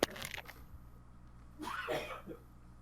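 A faint, muffled cough into a microphone with a bit of throat clearing, heard once at the start and again more roughly a moment later.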